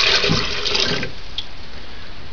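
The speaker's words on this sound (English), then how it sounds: "So here is 2 cups of water going in my BlendTec" About two cups of water pour into a Blendtec blender jar in a short, close gushing splash lasting around a second, then give way to quiet room tone.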